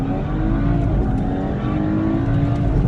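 A BMW X3 sleeper accelerates hard in a drag race against a Cadillac CTS-V, giving a loud, sustained engine roar heard from inside the car, steady and close with no talk.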